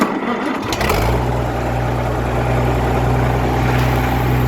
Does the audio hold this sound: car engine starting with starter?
yes